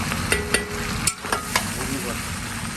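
Mutton with spices frying over high heat, a dense continuous sizzle broken by sharp metal scrapes and taps of a spatula stirring in the pan, close and loud with no voices.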